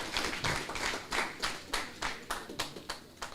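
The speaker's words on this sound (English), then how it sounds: "give them a good round of applause." Scattered applause from a modest conference audience welcoming a Guatemalan delegation, clear separate claps gradually thinning into a few sharp, spaced hand slaps.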